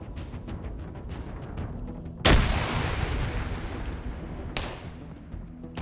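Gunfire from an AI soldier in a military video game, a steady dense rattle of shots with two loud sharp blasts standing out, heard alone without talk.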